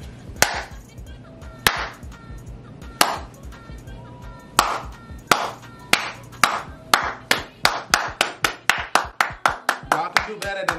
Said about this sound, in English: Yeah, I'm clapping for you.